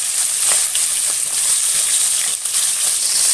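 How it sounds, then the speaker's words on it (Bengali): Katla fish being fried in hot oil gives off a steady, bright sizzling hiss at close range, with occasional small pops and no talking. "তেলটা পুরো গরম হয়ে গেছে, এক এক করে আমি মাছটা ছেড়ে দিচ্ছি।"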